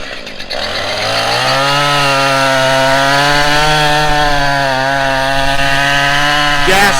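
Loud, close gas-powered chainsaw felling a tree, its engine revving up from a low idle into a sustained high whine that holds steady and wavers slightly under load for several seconds.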